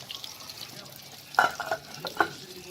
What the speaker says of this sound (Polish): tu kotlety się smażą